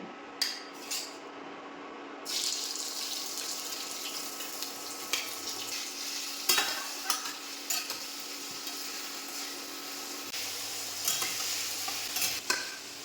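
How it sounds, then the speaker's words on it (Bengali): Chunks of meat for meat chops frying in a pan, a steady broadband sizzle that swells after a quiet start, punctuated by scraping stirs and utensil clicks against the pan, close and moderately loud with no talking. "এবার মাংসগুলো আমি একটু ভেজে নেব"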